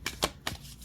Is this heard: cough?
no